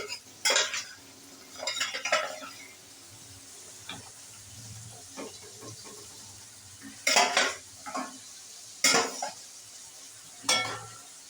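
Pieces of fried katla fish go into a simmering curry with beans, cauliflower and potato, with intermittent spoon scrapes and clinks against the pot in bursts over a low background simmer.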